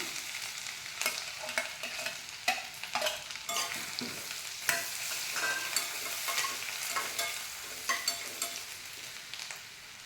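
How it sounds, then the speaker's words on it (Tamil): Chopped ginger and garlic hit hot oil with already-popped mustard seeds, crackling and sizzling steadily while a spoon scrapes and stirs the pan in irregular clattering strokes, close and clear with no talk. "இந்த டைமில் நம்ம இஞ்சி பூண்டு கட் பண்ணி வச்சுருக்கோம், அதை போட்டுக்கலாம்"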